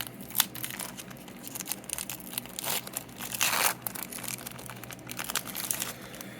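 Crinkling and tearing of foil wrappers on Pokemon Paradox Rift booster packs, scattered crackles and rustles with one louder rip midway, close up and without speech.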